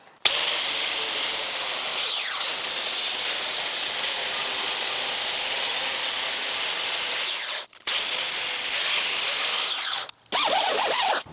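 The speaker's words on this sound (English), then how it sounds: "we're going to give him a little baby angle grinder shot" An angle grinder works over the rusty surface of an Oklahoma Joe's Judge grill, giving a loud, steady, harsh whine that runs almost the whole time, with brief drop-outs near the end as it is lifted off.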